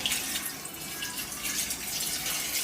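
Water pours steadily from a tap into a curry mixture of curry leaves being prepared for a pressure cooker, a continuous close splashing rush with no talk.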